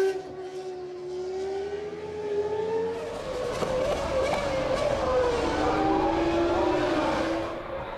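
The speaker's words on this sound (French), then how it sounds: "Il profite de la puissance de son moteur pour faire l'extérieur à Button et prendre la 4e position" Formula 1 cars racing at the 2000 Belgian Grand Prix, a high engine whine rising and then dropping in pitch as cars scream past amid a steady roar of other cars.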